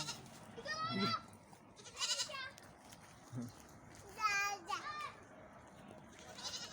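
Goats grazing on wild mulberry bushes bleat in short, wavering calls, several spaced across the stretch at moderate distance, with faint background chatter and rustling between them.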